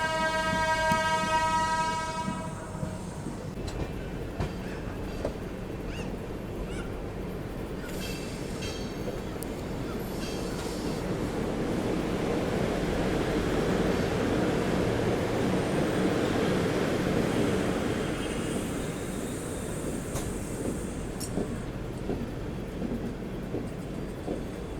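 A Vande Bharat express from Banaras to Agra Cantt opens with a horn blast, then rumbles past on the adjacent track with a steady, close roar and clattering wheels that swell in the middle and then settle.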